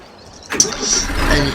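Tractor engine cranking and catching, a sudden loud start after a quiet moment, then settling into a low rumbling run close by.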